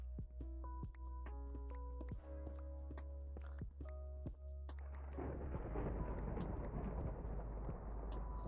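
Deep rolling thunder from a Minecraft storm rumbles in after soft game music, a long, loud, low roar that swells and fades.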